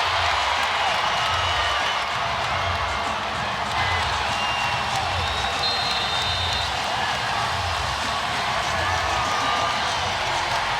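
Crowd noise at a USC women's basketball game against Mississippi State, a continuous broad roar of cheering and clapping filling the arena throughout, steady and fairly loud, with occasional speech underneath.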